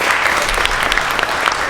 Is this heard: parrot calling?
no